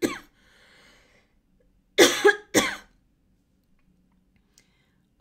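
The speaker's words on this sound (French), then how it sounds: "ça me fait tousser." A woman gives two sharp, close coughs in quick succession after a brief breath, then silence follows.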